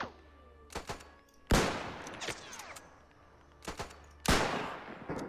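Gunshots in the WW1 video game Between Empires: two sharp, loud bursts of rifle or machine-gun fire, each with a trailing echo, separated by quieter pauses with a few faint distant cracks between them.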